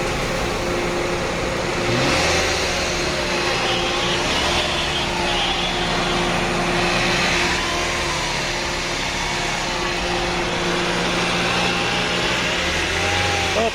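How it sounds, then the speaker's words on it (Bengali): A 2005 Toyota Probox car engine idles loudly up close, then revs in several rising and falling swells over a steady mechanical drone, with no talk. "ইঞ্জিনের সাউন্ডটা দেখা, পিকআপ দাও।"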